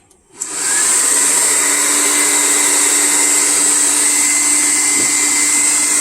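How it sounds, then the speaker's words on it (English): PCP air compressor starts up and runs: a steady, loud, high-pitched whine and hum that begins abruptly after a brief moment of quiet and holds constant throughout. "The compressor."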